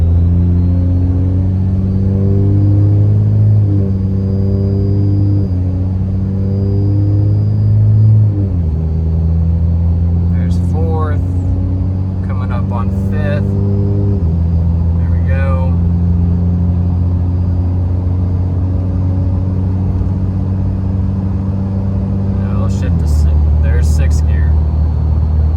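A truck with a fully built 68RFE transmission accelerates through its gears on the interstate at moderate throttle, its loud engine drone dropping in pitch at each upshift, while someone talks over the steady cabin rumble.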